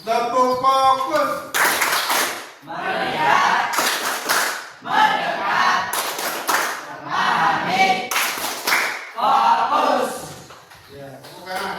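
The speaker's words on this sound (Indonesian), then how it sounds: "selanjutnya tepuk fokus" A group does a rhythmic focus clap, several loud bursts of unison clapping mixed with chanted voices, close and repeated in sections across the stretch, with a leader speaking between them.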